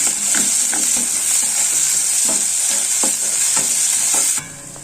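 Small pieces of chopped tomato cook in a pan with a bright, steady sizzle as a spoon stirs and knocks against the metal in repeated strokes, close and loud, then the sizzle drops away at the end.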